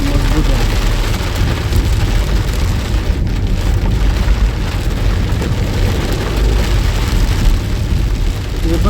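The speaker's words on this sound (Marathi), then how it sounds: "मजबूत झाला पाऊस. आला मजबूत झाला." Heavy rain pours down steadily and loudly on a road trip from Mumbai toward Alibag, a dense continuous roar with low rumbling undertones throughout.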